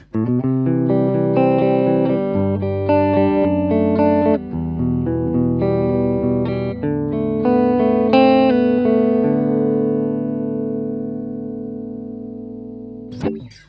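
Clean electric guitar played on the neck pickup through a Peavey Bandit 65 solid-state amp: sustained chords and ringing notes follow one another, loud and close, with no talking.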